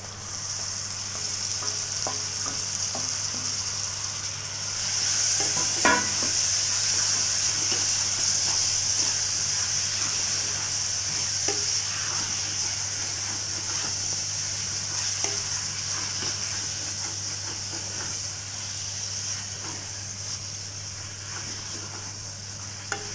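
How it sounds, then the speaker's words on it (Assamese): Meat with masala frying in hot oil, a steady loud sizzle with scraping stir strokes and an occasional clink, constant for the whole stretch with no voices. "মই এতিয়া এয়া মাংস মছলাখিনি ভাজি আছোঁ"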